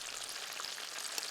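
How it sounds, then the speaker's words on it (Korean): Octopus and pollock patty batter with chopped vegetables fries in hot oil. A continuous fine crackle and sizzle runs evenly throughout, close and alone. "이대로 기름에 튀기면 온 동네에 고소한 냄새가 진동을 한다죠."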